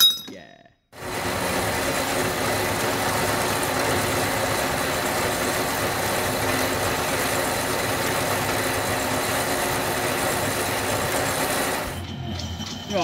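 A bandsaw cutting steel flat stock in a custom motorbike workshop runs steadily for about eleven seconds, a loud continuous mechanical drone that starts abruptly after a short pause and cuts off near the end.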